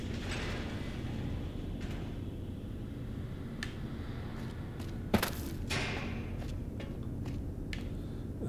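Hidden doors in Fallout New Vegas open after the Platinum Chip goes into the console slot, with mechanical creaks, clicks and one sharp thud over a steady low rumble, with no talking.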